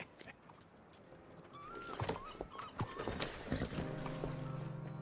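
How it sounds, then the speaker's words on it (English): A horse clip-clops with hooves striking a hard surface, interspersed with a brief whinny-like tone and jingling tack, close and moderately loud against a quiet outdoor background. "You got a horse? Get on it."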